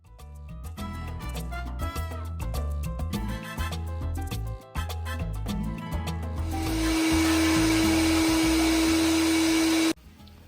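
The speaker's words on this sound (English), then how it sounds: "I just took it out of the blender" Kitchen blender whirring through cilantro, half a tomato, garlic cloves and green onions for a vegan Colombian empanada sauce, a loud steady motor drone that kicks in after a stretch of rhythmic music and runs until cutting off abruptly.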